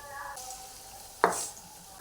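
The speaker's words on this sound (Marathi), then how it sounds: "आता आपण भजी सोडून घेऊया" Potato bhaji fritters dipped in batter and slid into hot oil, a faint background fry, then one sudden splashy sizzle burst that settles into a softer hiss.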